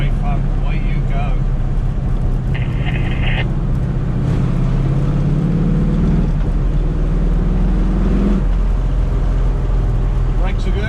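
A 1968 Ford Mustang Coupe with a 351 stroked to 410 and a five-speed manual, driving with a steady loud engine drone and road roar heard from inside, rising slightly in pitch as it pulls, with someone talking over it.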